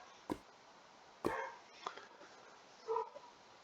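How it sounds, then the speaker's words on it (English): Dogs barking in the distance, a few sharp isolated barks spaced irregularly, faint against a quiet background. "The dogs are barking about something."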